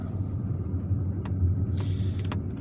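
Car driving straight on through largely empty streets of Algiers, from Kouba toward Garidi, heard from inside as a steady low engine and road rumble with faint higher ticks and brief noises, no talk.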